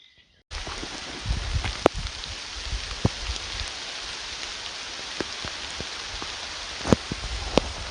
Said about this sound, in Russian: Ну вот и дождик пошел.